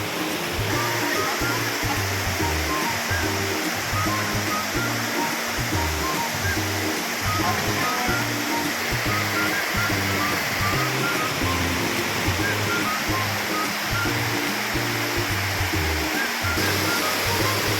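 Steady, full rush of flowing river water in the Philippines, continuous and fairly loud throughout, with a faint low rhythmic thumping underneath.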